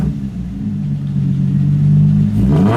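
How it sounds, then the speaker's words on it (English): An Infiniti G35 engine with a suspected exhaust leak, heard up close, climbs from a steady idle into a loud, swelling rev that holds and then drops away. "gonna give her some revs and see how she reacts now"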